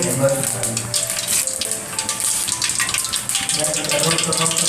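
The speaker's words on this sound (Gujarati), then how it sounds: "તો હવે આપણે ઢોકળાને વઘાર કરી નાખીશું." Loud, dense crackling sizzle of asafoetida, white sesame seeds and curry leaves hitting hot oil for tempering dhokla, continuous and close, with a faint voice in the background.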